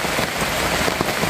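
Heavy rain pours steadily on a road trip in Davao, a loud, dense, continuous hiss of drops drumming on surfaces with no voices.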